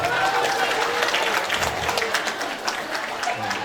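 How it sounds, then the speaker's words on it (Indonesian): An audience in a school classroom reflection session applauds a student, with loud, dense clapping and crowd noise sustained throughout, mixed with some voices. "Tepuk tangan buat Sarah."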